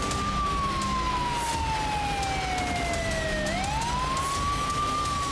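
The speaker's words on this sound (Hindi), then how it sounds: "गलियों में एम्बुलेंस के सायरन गूंज रहे हैं।" A single ambulance siren wails in a long falling sweep, then rises again, heard at a distance over a faint street hum in Kyiv.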